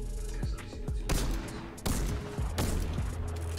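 Bursts of gunfire from a new revolver in Fortnite, several sharp shots in quick succession with a few heavier booms among them, loud and close over a busy game background, no talking.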